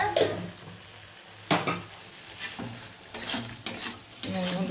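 A spatula scrapes and stirs spice masala sizzling in a pan for a fish curry, making intermittent close strokes and clinks over a low frying hiss, with no speech.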